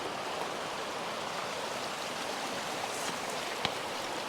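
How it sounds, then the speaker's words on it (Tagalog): A continuous broadband rush of strong river water at Dipalo River Park in San Quintin, Pangasinan roars steadily, loud and close, with no pauses and one brief sharp tap near the end. "Lakas na tubig, eh, no?"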